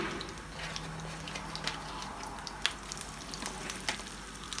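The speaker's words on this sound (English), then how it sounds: "we're gonna put in the hot dogs first and make sure they fry" Hot dogs frying in a pan, a steady soft sizzle with small crackles and pops, close and fairly quiet, with no talking.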